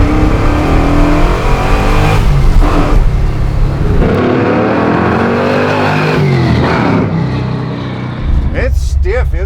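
A garage-built 1967 Ford Mustang engine roars loud and close, revving hard and accelerating with a rising, sustained snarl that dips and climbs again near the end.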